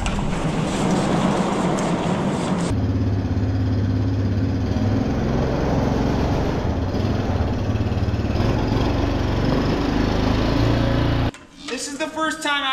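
A 560 tractor's engine runs steadily as it backs out toward a hitch, a loud continuous rumble that holds throughout, with a voice talking over it and a sharp change in sound near the end.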